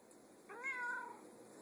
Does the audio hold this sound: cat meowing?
yes